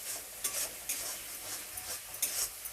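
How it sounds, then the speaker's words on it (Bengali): Ginger paste frying in a pan for a vegetarian potato curry, a steady low sizzle broken by repeated scraping stirs at a quick, uneven rhythm, close and moderately quiet with no talking. "আস্তে আস্তে এটা ভাজা হয়ে গেছে"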